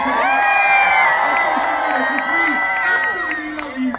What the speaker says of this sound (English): Would you mind a big cheer while we do a stupid little selfie